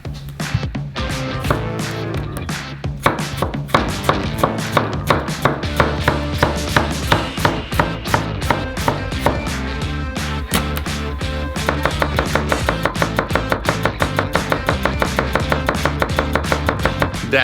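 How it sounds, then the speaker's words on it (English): A knife rapidly chopping a whole box of tomatoes on a board, a long, fast, steady run of close, crisp knocks that picks up pace toward the end, with no talk. "You also need to chop a whole box of tomatoes."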